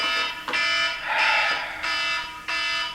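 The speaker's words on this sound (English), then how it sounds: "Just switch off the alarm" A loud electronic alarm rings in repeated pulses, each roughly a second long, close and steady with brief gaps between bursts and no talking.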